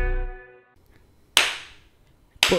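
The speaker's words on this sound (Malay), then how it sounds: "Tepuk tangan, bertepuk ramai-ramai" Two crisp single hand claps land about a second apart, close and loud, just after a stretch of music fades out in a podcast studio.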